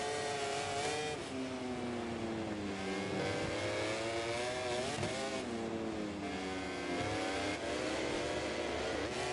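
Yamaha and Ducati MotoGP bikes screaming down the straight at Mugello in a racing video game, several high-revving engines layered together, pitch sweeping up and down through gear changes, loud and continuous with no talk.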